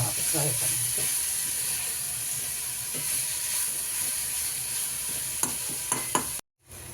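Dried jawla shrimp sauté in hot oil with a steady sizzling hiss, stirred now and then with a few light clicks of a utensil, broken by a brief cut near the end.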